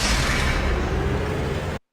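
Harvester production sound effect from the Command & Conquer Rivals video game: a short, dense, rumbling burst with a faint rising tone inside, loud and alone, cutting off sharply after under two seconds.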